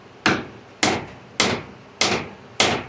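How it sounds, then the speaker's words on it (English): A hammer strikes wood five times in an even rhythm, each sharp, loud blow ringing briefly, with no talk. "Got your hammer."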